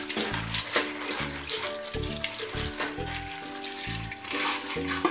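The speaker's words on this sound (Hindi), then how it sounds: "इसके ऊपर से हम साफ पानी डालेंगे और इसे अच्छी तरीके से धोते जाएंगे।" Water splashing and running into a vessel while chana dal lentils are washed, with rinsing and swishing sounds close by, continuous with a faint musical backing underneath.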